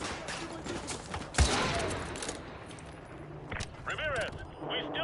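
Gunfire crackles in a military shooter video game, with bursts of automatic fire and a sharp blast amid battlefield noise, partly under radio-style voices talking.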